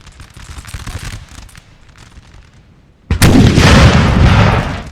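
Cannon artillery fires in a Napoleonic-era siege battle at Vienna in 1809: quiet distant crackling gives way to one sudden loud close boom that rolls on in a heavy, sustained roar.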